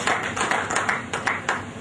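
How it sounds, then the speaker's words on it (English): Audience applause for a speaker at a pharmacists' induction and investiture ceremony, a dense continuous wash of many hands clapping throughout, steady and fairly loud. "can we put our hands together and give a resounding applause to pharmacist Cont"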